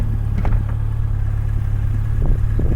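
A Honda CB1100 Deluxe motorcycle cruises along with a steady low engine drone, loud and continuous throughout, with a few faint clatters and wind noise on top.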